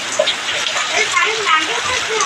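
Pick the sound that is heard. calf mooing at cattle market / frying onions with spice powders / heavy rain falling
heavy rain falling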